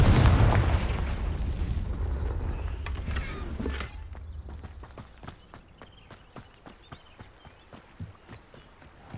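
Confringo blasting spell going off in Hogwarts Legacy: a loud, booming burst with low rumble right at the start that decays over a few seconds, followed by a steady run of sharp, evenly spaced footstep-like clicks.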